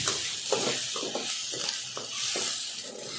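Spices being stirred into a small-fish curry in a pan, with a steady sizzle and hiss throughout and soft repeated scraping strokes of a spoon every half second or so, close and moderately loud, no talk.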